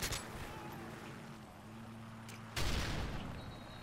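Gunfire in the Modern Warfare 3 shooter video game, aimed at an AH6 helicopter, with a quiet rumbling stretch and then a louder burst of shots near the end, with no talk.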